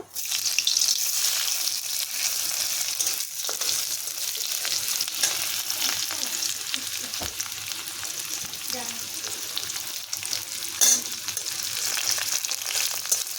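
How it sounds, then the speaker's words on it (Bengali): Chopped onions fry in a pan with a loud, steady, dense sizzle that holds throughout, close up, with faint occasional stirring and no talking. "ভালো করে ভেজে নেব আমি।"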